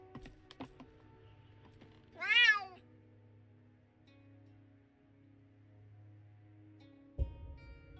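A cat gives a single clear meow inside a video-game cat shop, with a soft steady hum and a dull thump later on.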